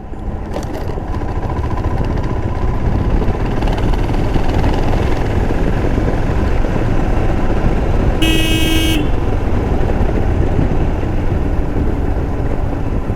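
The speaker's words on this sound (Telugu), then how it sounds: "హారన్ మోగించుకుంటా వెళ్ళాలి." A single short car horn blast sounds over a steady, loud road and engine rumble.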